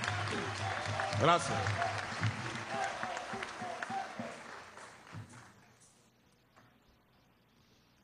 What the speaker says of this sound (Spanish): Un aplauso a nuestra Fuerza Armada Nacional Bolivariana.